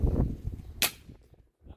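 A single sharp, snappy pellet shot from a Gamo Big Cat Turbo air rifle cracks out amid low rustling and wind noise, followed by quieter handling sounds.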